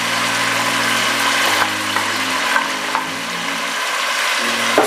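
Chicken frying in a pan with a paste of four ground tomatoes for Sindhi biryani, a steady loud sizzle under a low continuous hum, with a few faint clinks of stirring.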